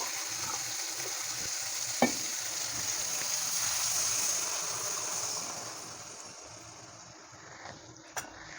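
Potato curry with hot water added bubbles and sizzles in a pan while being stirred, a steady frying hiss with a couple of sharp utensil clinks, fading softer toward the end.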